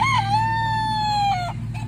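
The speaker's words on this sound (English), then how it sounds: "They definitely are a pet chicken." A Silkie chicken, a small pet breed, gives one sustained, drawn-out call lasting about a second and a half, close and clear over steady low background hum, with no talk.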